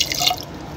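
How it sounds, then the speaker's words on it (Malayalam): A short splash of water poured into a pot of cooking chickpeas and tapioca, a quick close drip-and-pour sound lasting under a second with no talking. "വെള്ളം കുറവാണെങ്കിൽ കുറച്ച് വെള്ളം കൂടി ചേർത്ത് കൊടുക്കാം."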